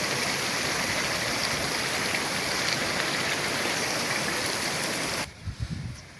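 A waterfall among the mountains of Azad Kashmir roars in a dense, constant rush of falling water that cuts off abruptly near the end, leaving a faint low rumble.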